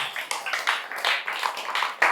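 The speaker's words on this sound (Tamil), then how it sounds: "மறுபடியும் கைத்தட்டின 10 பேருக்கு நன்றி." A small audience of about ten people claps in scattered, uneven bursts, each clap close and distinct, with no voices over it.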